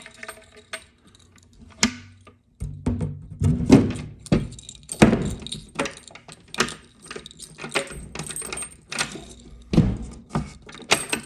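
Door panel of a 1956 Williams crane arcade machine being fitted back on, with a series of close, sharp metallic thunks, clacks and rattles spread irregularly through the clip.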